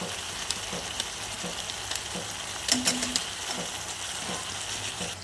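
Garam masala powder frying in a pan, a steady, even sizzle that keeps on throughout with a few faint stirring clicks and a short soft scrape near the middle.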